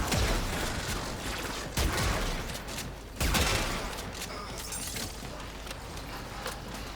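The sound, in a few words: Archoplasma weapon firing in Warframe video game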